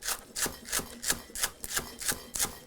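Knife chopping onion on a board, about eight quick, even strokes in steady rhythm, each a crisp close thud with a slicing rasp, fairly quiet with no talk.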